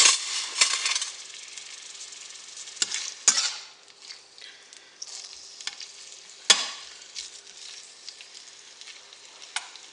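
Homemade Chinese-style fried rice with peas, carrots, onions and pork sizzles steadily in a pan, broken by several sharp scraping stirs and clinks of a utensil, close and fairly loud with no voices.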